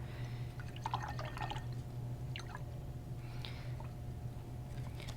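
Clear water drips and dabs from a watercolor paintbrush, faint and irregular, making a few small wet ticks over a constant low hum.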